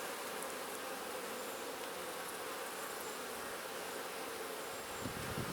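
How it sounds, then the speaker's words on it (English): Honeybees buzz in a dense, steady drone from an open hive full of brood and honey frames, close and continuous throughout with no talking. "there's a decent amount of bees here"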